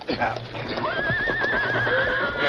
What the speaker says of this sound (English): Better lead the horses. Pretty scared.